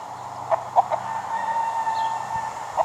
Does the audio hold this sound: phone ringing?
no